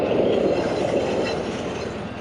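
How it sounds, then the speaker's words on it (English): A small commuter train in Ontario rumbles past with a steady rolling clatter of wheels on rails, loud and close, slowly fading as it moves away. "Small commuter train."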